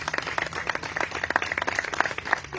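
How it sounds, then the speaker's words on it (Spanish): A church congregation applauds at an Easter service, a steady patter of many hands clapping together at moderate volume without a break. "Un aplauso a nuestro Dios."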